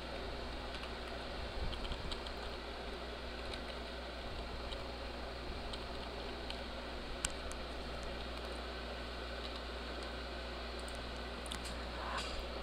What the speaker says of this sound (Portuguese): eu clico no texto, venho aqui e vou digitar